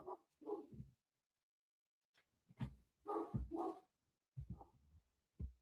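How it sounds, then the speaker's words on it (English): Several dogs bark nearby in short clustered bursts separated by silent gaps, loud and close. "the dogs are going to start barking now"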